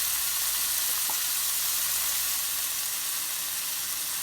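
Seasoning stirred into rice in a pot for Haitian black mushroom rice, a dense steady hiss with a faint spoon tap near the start and no voices.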